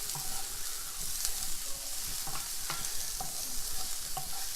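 Food frying in coconut oil in a pan while it is stirred, a steady close sizzle with scraping, clicking stir strokes scattered through it.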